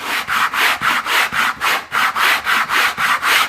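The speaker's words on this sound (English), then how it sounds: "I'm just going to clean up my butt joints a little bit using a sanding block" Coarse sandpaper on a plywood sanding block scrubbing wooden butt joints, about twelve even back-and-forth strokes in a steady rhythm, close and loud with no talking.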